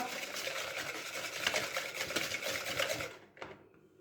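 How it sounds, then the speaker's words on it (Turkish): Egg and sugar are beaten by hand in a bowl, with quick, rhythmic scraping strokes close by, stopping abruptly and ending with a light clink. "Biraz daha çırpacağım hatta."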